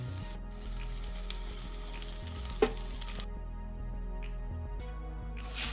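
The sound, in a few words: okra and tomato frying and being stirred in a pan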